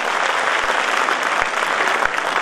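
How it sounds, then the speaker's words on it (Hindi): Audience at a municipal award ceremony breaks into steady, dense applause, a continuous wash of clapping from a sizeable crowd indoors. "जोरदार तालियां एक बार फिर से मनोहर लाल"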